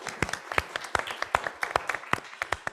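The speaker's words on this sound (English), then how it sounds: "Can we get a round of applause for everybody?" A thin round of applause from a small group, distinct individual claps in an uneven, quick rhythm, close by.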